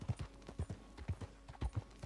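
Horse hooves clip-clop in a steady trotting rhythm while riding in Red Dead Redemption 2, each footfall a close, distinct thud, with no other sounds competing.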